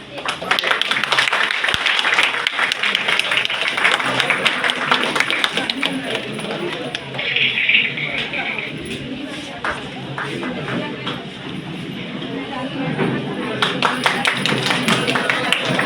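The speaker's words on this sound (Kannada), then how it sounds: "ಚಪ್ಪಾಳೆ ಹೊಡಿರೋ" A college freshers party audience claps at a program inauguration, a dense ragged applause that continues throughout, with chatter and voices mixed in over a noisy room.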